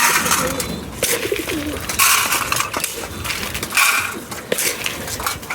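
Pigeons coo softly while being handed feed one by one, with scattered pecking and crunching noises and occasional bright clatters over a steady, busy background.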